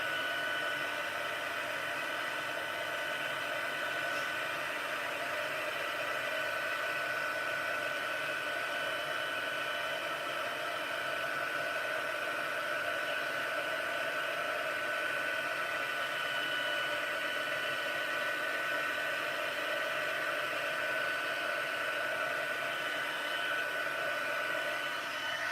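A heat embossing tool blows hot air in one steady, unbroken whoosh with a faint whine, close and constant from start to finish.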